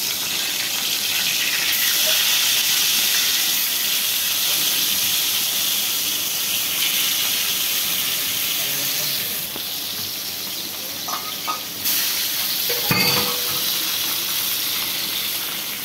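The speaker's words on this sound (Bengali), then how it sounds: "তেলটা আমার গরম হয়ে গেছে, এখানে আমি মাছটা ছেড়ে দিচ্ছি।" Pieces of catla fish drop into hot oil in a kadai and set off a loud, continuous sizzling hiss up close, with a few soft knocks near the end.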